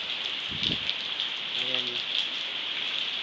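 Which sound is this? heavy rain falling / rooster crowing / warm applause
heavy rain falling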